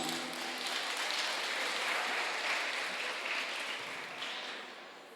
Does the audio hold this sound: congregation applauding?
yes